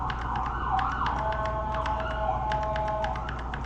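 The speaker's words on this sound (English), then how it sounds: "forgive the sirens, they're not after me" Police sirens in the video game GTA wail continuously, overlapping tones sweeping up and down over a steady rumbling background, moderately loud and somewhat distant.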